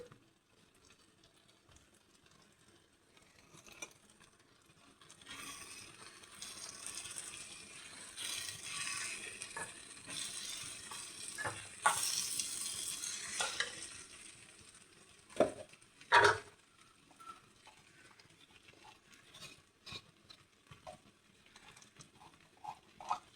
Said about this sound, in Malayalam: മല്ലിപ്പൊടി, മുളക് പൊടി ചേർത്ത് നമ്മൾ വഴറ്റുക.